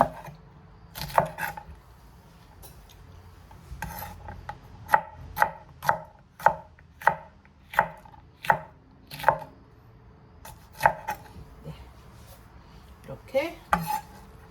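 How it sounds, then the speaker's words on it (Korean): A knife chops colored bell peppers on a cutting board in a home kitchen, a steady run of sharp, close taps in quick succession with short pauses between bursts, with no talking. "색깔 있는 피망을 두 개 정도 썰면 예쁘잖아요"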